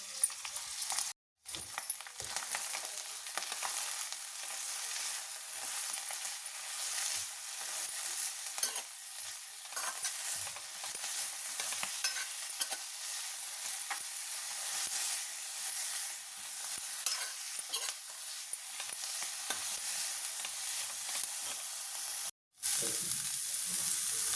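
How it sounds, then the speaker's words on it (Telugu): Green chillies and curry leaves fry hard in hot oil in a pan for a biryani base, a bright continuous sizzle with stirring and occasional clinks, broken by two brief silent cuts. "కరివేపాకు, ఇవన్నీ ఒకసారి బాగా ఫ్రై చేసుకుందాం"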